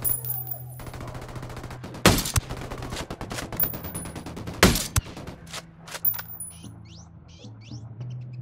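Gunfire in the tactical shooter Ghost Recon Wildlands: a few loud, sharp shots stand out among rapid bursts and scattered cracks, with clinking metallic debris and some softer background game sounds.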